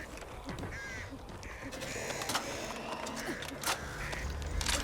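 Crows cawing in the zombie shooter game Back 4 Blood, a flurry of harsh calls scattered over busy game noise, with faint speech underneath.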